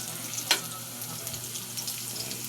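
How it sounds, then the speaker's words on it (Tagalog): Garlic and onion sautéing in a pan for pancit give a steady close sizzle, with one sharp clink or spatter near the start and soft stirring and kitchen noise beneath. "magigisa na ako ng bawang saka sibuyas"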